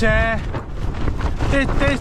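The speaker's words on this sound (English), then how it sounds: "The wind's unbelievably strong." Strong gusting wind at a mountain campsite near Langdale buffets the microphone with a loud, rough, continuous roar, while a person's voice breaks through at moments under the noise.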